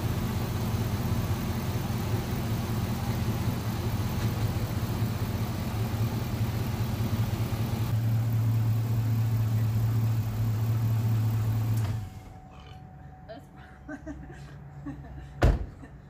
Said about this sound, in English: Now you're going to want to run the engine, or run the oil through the engine for a little bit.